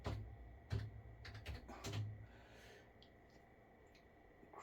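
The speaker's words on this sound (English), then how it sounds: "So go to Google and type in" Faint keystrokes on a computer keyboard, a handful of quick separate clicks in the first two seconds, then near silence with only a couple of soft taps.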